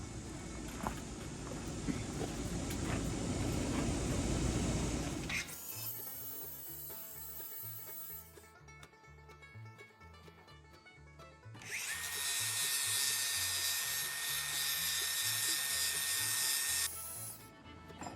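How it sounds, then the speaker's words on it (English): A grinder strips paint off a metal bracket for a tractor boom, loud harsh grinding in two long close bursts with a quieter, lower rumbling stretch between them. "the first thing I'm going to do is grind the paint off where I'm going to weld at"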